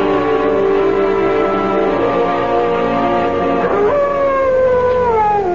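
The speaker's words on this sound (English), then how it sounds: "What the devil is the matter with that dog, Chadsworth" A dog howls in a radio drama, with a long, wavering, mournful cry that slides in pitch, rises sharply near the end, then trails downward. It is loud and close, and no one talks over it.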